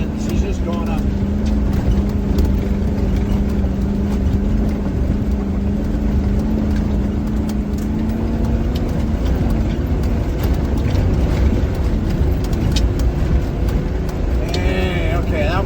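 A 2025 Ford Bronco with a V6 turbo engine climbs a steep off-road hill in second gear at about 3,500 RPM, a steady, loud drone running throughout, with a voice talking over it and a brief whine near the end.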